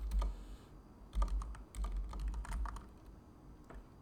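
A computer keyboard is typed on in bursts of quick, close clicks with a short pause in the middle, then a final few keystrokes, with no talk.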